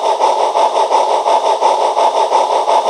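A Proto 2000 0-8-0 model locomotive fitted with a decoder runs smoothly, its motor giving a steady, close, pulsing hum with a regular rhythmic throb throughout.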